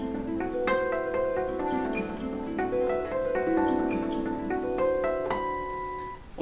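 Harp harmonics on guitar spell out a six-note chord, bell-like chiming tones plucked one after another in a cascading pattern and left ringing over each other, close and gentle, with no talk.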